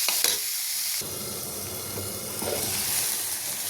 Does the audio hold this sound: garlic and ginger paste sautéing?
yes